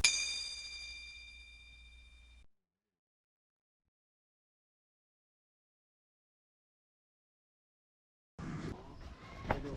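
A temple bell rings once at a bell tower beside a skywalk at Wat Pha Tak Suea, a bright metallic clang with a long, fading ring. Silence follows, then faint outdoor noise at the end.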